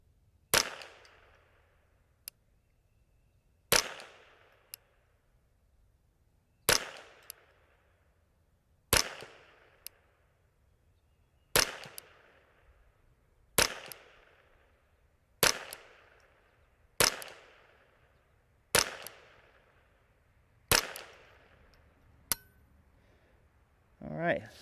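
Ruger 10/22 .22LR rifle firing about ten sharp single shots at slow, fairly even intervals, each a crisp crack with a short ringing tail, some faint metallic clinks between shots.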